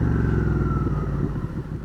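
A motorcycle fitted with a Two Brothers exhaust, close and loud, its throaty low engine note holding steady then easing off and fading slightly over about two seconds.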